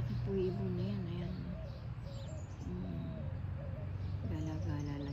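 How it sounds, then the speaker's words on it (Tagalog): Large birds call repeatedly outdoors, their cooing, warbling notes moderately close and recurring in short bursts over a steady low background. "Sobrang lalaki ng mga ibon dito."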